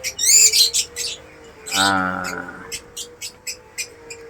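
Small birds in a mini aviary give sharp chirps and tweets, some in quick bursts and some spaced apart, close and fairly clear against a quiet background.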